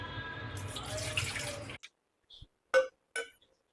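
Water poured into a bowl for sweet wheat flour pudla: a steady close stream runs for about two seconds, stops abruptly, and is followed by a few light clinks and drips.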